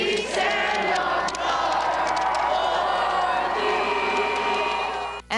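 A large outdoor crowd at the Vimy memorial in France breaks into an impromptu rendition of the Canadian anthem, many voices blending into a loud, sustained sung roar that carries steadily throughout.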